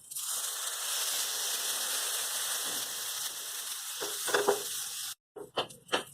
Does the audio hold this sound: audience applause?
no